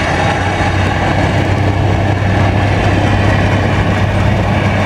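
A 1969 John Deere 1020 IU tractor runs at a tractor parade at a Grand Valley show, giving a loud, close, steady engine drone with a low, even hum and no break throughout.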